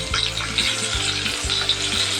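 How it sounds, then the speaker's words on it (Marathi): Stuffed bitter gourd (karela) fries in a kadhai with a loud, continuous sizzle and crackle, close up, with soft scraping stirs recurring at a steady pace. "आता दोन्ही साईडने आपण भाजून घेऊया भरपूर भाजून घ्यायची चांगली"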